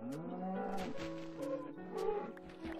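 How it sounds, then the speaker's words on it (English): A cow in Minecraft on Xbox 360 lowing in drawn-out, tonal moos, two or three swelling calls heard clearly and close with no talking over them. "Hello, Mr. Cow."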